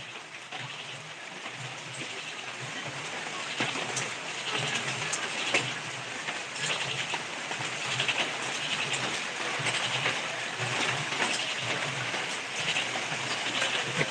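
Steady rain falls during a wet day in Bogura, a continuous dense hiss of drops on surfaces that holds at an even level throughout with no voices.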